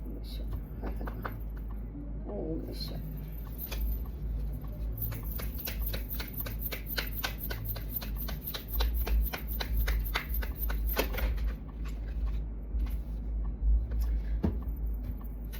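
Tarot cards are shuffled by hand, building into a long run of rapid, fluttering card clicks in the middle before settling, over a low steady background rumble.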